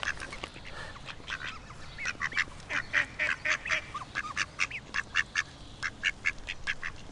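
A duck calls again and again outdoors in the sun, with a run of short, bright quacks that come in uneven bursts and grow busier toward the end, over a soft background hiss.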